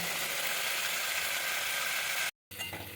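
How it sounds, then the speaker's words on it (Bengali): Spice paste fries in oil over a medium flame, giving a steady, close, dense hiss of sizzling that cuts out for a moment near the end before resuming. "তেল না ছাড়া পর্যন্ত আমি এভাবে মিডিয়াম ফ্লেমে কষিয়ে নেব"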